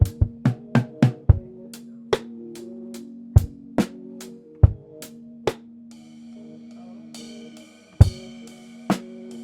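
Dry studio drum kit with all reverb removed: punchy kick, snare and tom hits sound tight and close, each stopping abruptly, with a sustained tonal hum underneath and cymbal wash entering later.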